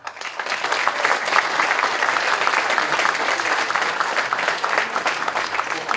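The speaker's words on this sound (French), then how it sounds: "Merci d'applaudir Farhad." An audience at an award ceremony in France applauds steadily for several seconds, a dense wash of clapping with no break.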